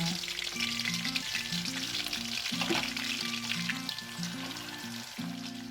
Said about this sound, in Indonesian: Nah, ini minyaknya udah panas. Selanjutnya saya akan goreng ikan asinnya.